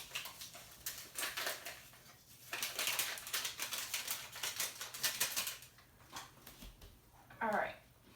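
Milk and vanilla pudding mix being whisked in a bowl make a rapid, irregular clicking and tapping close by, pausing at times, with a short voice-like sound near the end.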